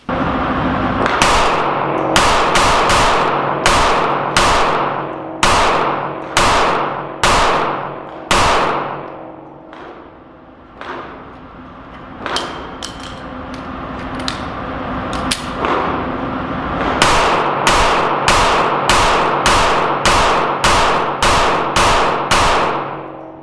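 Loud outdoor gunfire from a Sig Sauer P365 pistol in .380 ACP, rapid strings of sharp shots with a short lull midway before another fast, steady volley.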